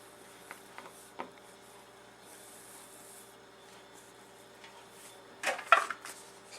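A metal pie pan for apple pie is handled on a kitchen counter: quiet faint rubbing, then a brief clattering knock near the end.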